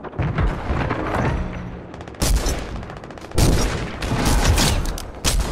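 Rifle fire in Fortnite's Team Rumble mode, a run of loud, punchy shots with short pauses between bursts, close and dense with no voices over it.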